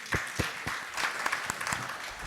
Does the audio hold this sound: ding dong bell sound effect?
no